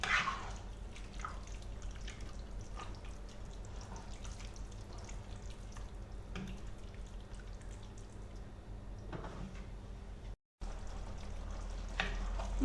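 A pot of onion and mushroom stew simmers with soft, steady bubbling and popping, and occasional louder clicks and scrapes suggest stirring. The sound stays quiet and continuous, with no one speaking.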